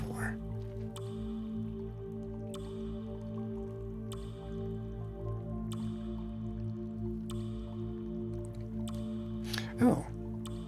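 Dripping water falling into a cave pool in the slow-paced video game The Longing, with soft periodic drips roughly once a second over a steady low ambient drone and a brief louder splash near the end.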